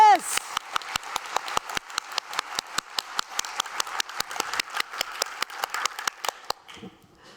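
An audience at an education conference session claps in a steady, evenly spaced rhythm, each clap sharp and distinct, after a brief rising whistle-like sound at the start; the clapping stops abruptly near the end.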